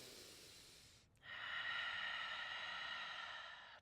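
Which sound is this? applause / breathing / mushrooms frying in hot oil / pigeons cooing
breathing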